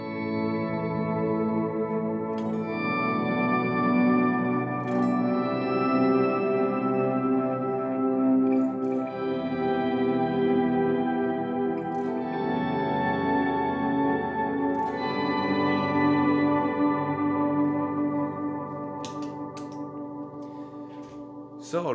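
Ambient electric guitar fed through an organizer effect pedal gives organ-like sustained chords, with new notes picked every few seconds and swelling into a long reverberant wash.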